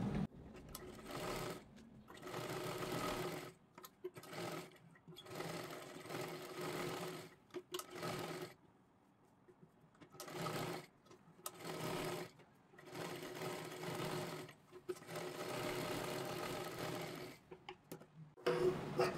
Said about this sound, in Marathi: आता इथे पाठीमागच्या सुद्धा बाजूला आपल्याला व्यवस्थित शिलाई करून घ्यायची आहे